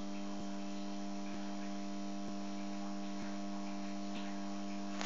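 A Westra Environmental dehumidifier runs indoors with a steady, quiet electrical hum and a faint ticking roughly once a second, alone with no voices.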